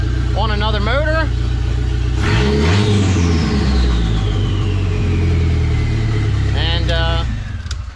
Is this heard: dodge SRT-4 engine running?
yes